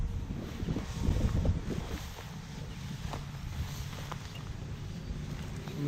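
Gusty wind blows across an open field during bird-dog training, a broad rumbling buffet on the microphone that swells early and then settles into a steady outdoor rush with faint rustling.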